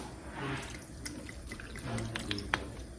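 Water runs and drips into a pot or sink while Filipino paksiw is being cooked in a home kitchen, a continuous close splashing trickle with small clinks over about three seconds.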